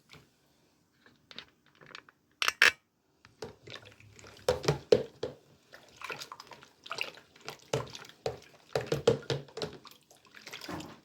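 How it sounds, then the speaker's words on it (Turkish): A pastry batter of milk, eggs, oil and yeast is whisked by hand in a bowl, giving faint, irregular wet ticks and splashy strokes that come in quick clusters with brief pauses. "Şimdi şöyle güzelce çırpacağım."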